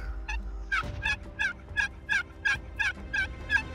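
A wild turkey gobbles back at a hunter's call in the open, giving a run of about nine quick, rhythmic, warbling notes at moderate distance over a faint low background rumble.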